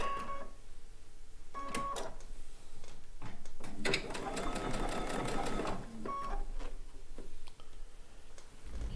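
A sewing machine stitches pieces of a blue and white quilt top, running in close, loud bursts of rapid mechanical clatter with short pauses between runs.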